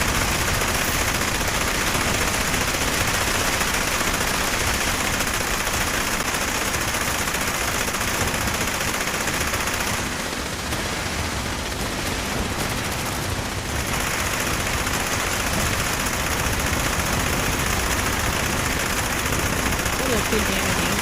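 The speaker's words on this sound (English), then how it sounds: "I'm just gonna dump rounds." Rapid automatic gunfire from a player emptying rounds in Fallout 76, a loud continuous dense barrage that dips briefly midway before resuming, with a person talking over it.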